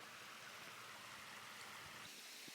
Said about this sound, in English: We needed to cross this river,